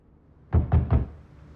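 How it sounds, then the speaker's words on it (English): Three quick, evenly spaced knocks on a door in the video game The Wreck, close and dull, with silence before and after. "Ryan Gosling knocks on her door to coax her out"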